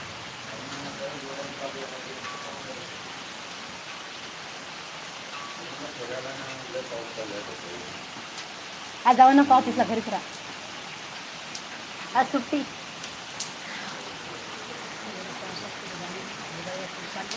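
Steady rain falls in a continuous hiss at home during the monsoon, with people talking over it and a few brief louder knocks midway.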